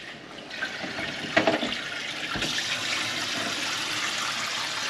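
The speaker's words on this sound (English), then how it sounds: "So I gotta wash the bottle off because I touched it." Water runs from a tap while a bottle is washed at a sink during an outdoor smoker barbecue in spring in Alaska, a steady close rush of splashing flow with a couple of brief knocks partway through.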